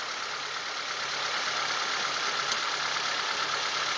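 A 2014 Toyota Avanza Type E engine idles steadily under an open hood, a smooth, even hum with no voices, heard close and at constant loudness throughout.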